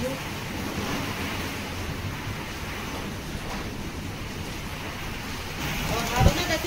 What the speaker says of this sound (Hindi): बारिश के साथ साथ तेज चक्रवाती तूफान है